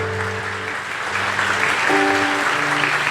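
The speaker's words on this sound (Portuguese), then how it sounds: "Pode aplaudir Jesus em forte." A church congregation applauds during a communion service, a sustained wash of clapping mixed with held organ or keyboard tones, fairly loud and steady for the brief span.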